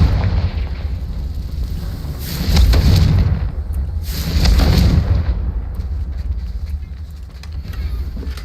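The Confringo fire spell in Hogwarts Legacy goes off as two heavy, rumbling blasts, each swelling and fading over about a second, set against a steady low background roar.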